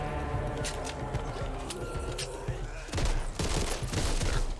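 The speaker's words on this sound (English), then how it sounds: "We'll shoot and pull some zombies here." Rapid gunfire in the Back 4 Blood co-op zombie shooter, a dense stream of shots with game effects and clatter, growing louder and heavier in the final seconds.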